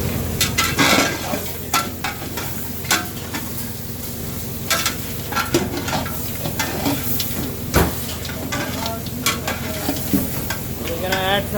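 Sliced onion sautés for goat curry, sizzling steadily in a pan, with frequent stirring scrapes and clinks of the utensil against the pan throughout, close and with no voices.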